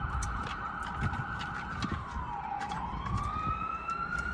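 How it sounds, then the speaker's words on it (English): A distant emergency siren wails in a slow, rising and falling sweep over a low bed of traffic rumble, heard alone and fairly faint throughout, with brief sharper clicks scattered on top. "I hear a siren and I feel like it's going to be really loud"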